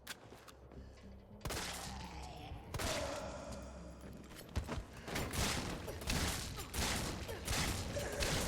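Gunfire in the Resident Evil 3 Remake video game, played on Inferno difficulty: a dense run of sharp shots and bursts over rumbling game ambience, with mechanical clicks and creaks mixed in, loud and continuous throughout.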